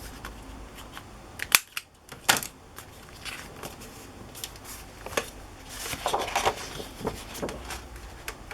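A corner rounder punch clicks through a paper page corner while smash book pages get pockets added, giving sharp isolated snaps and rustling paper handling at close range, with no talking.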